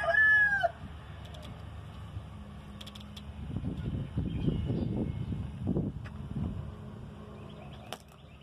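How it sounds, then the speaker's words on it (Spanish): A white-legged giro gamecock crows loudly for a brief moment at the very start, then cuts off, leaving quieter low rumbling sounds in the background. "Patas blancas, el gallo."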